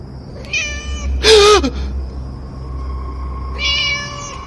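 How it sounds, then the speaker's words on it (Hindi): A cat meows twice with a loud yowl between them, close and clear over a low steady hum, used as a horror audiobook sound effect. "और तभी मेरे कानों में बिल्ली की आवाज आई।"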